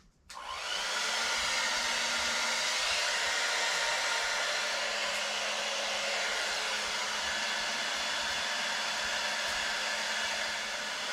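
A household blow dryer, used to thaw frozen fox and coyote fur, switches on and runs as a steady, loud, close whoosh for about eleven seconds with no break.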